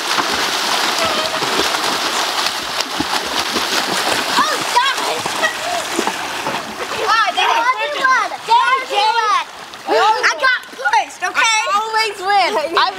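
Kids splash and churn through the water in a backyard swimming race, broadband splatter running steadily for the first half, then children's excited voices and shouts rising over fainter sloshing.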